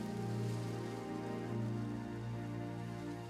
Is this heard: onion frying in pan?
no